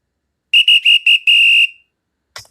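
A whistle sound effect triggered by a space bar: four quick pips followed by a longer sustained blast, loud, bright and clean, alone.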